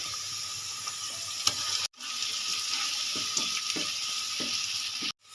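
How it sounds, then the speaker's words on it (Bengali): Onion paste fries in hot oil in a pan for a lote fish (Bombay duck) dish, with a steady close sizzle, a few soft stirring knocks and two brief breaks in the sound. "পেঁয়াজ পেস্টটাও দিয়ে ভালো করে ভেজে নিয়েছি"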